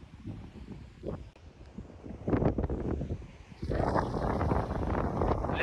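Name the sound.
strong wind blowing near a river bridge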